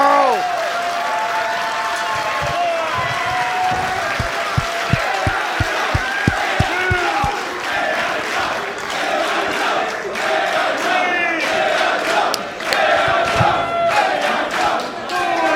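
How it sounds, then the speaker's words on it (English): A crowd at the AIW Absolution 12 wrestling event cheers and chants, with rhythmic clapping and stomping beats mid-way and swelling roars, while a commentator talks over the noise. "AIW chant breaking out here at Absolution 12. Crowd is up and on their feet here for Kingston and Lawler"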